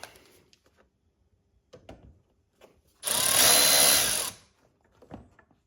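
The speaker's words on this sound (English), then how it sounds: "I'm gonna remove this 10 millimeter bolt and this 10 millimeter bolt" A power tool spins out a 10 millimeter bolt on a 1996–2002 Toyota 3.4L engine during spark plug work, one loud continuous buzzing whir of about a second and a half, bracketed by faint clicks and handling noises.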